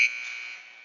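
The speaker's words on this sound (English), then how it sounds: "As a buzzer rings, signaling the end of the third period." A single short electronic buzzer tone at a hockey game signals the end of the third period, sharp at onset and then holding steadily before fading, with nothing else around it.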